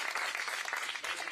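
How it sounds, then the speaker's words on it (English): Audience applause for the Ray Free team at a community event for seniors, a steady wash of many hands clapping throughout, dense and even, with no clear voices over it. "How about a big round of applause for the Ray Free team?"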